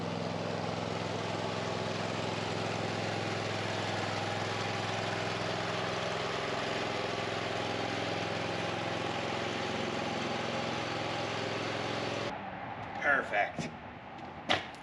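Lawn mower engine idling steadily and loud close by as the mower climbs a heavy-duty wooden shed ramp, then cutting off abruptly, followed by a few thumps and knocks.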